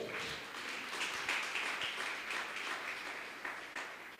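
A church congregation claps in praise, a steady, dense round of applause that fills the hall at a moderate distance and carries on without talk over it.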